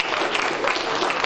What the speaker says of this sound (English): somebody can clap.